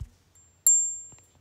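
A Snapchat notification tone plays as a preview on a phone, a single bright bell-like ding that rings out and decays over half a second, preceded and followed by faint taps.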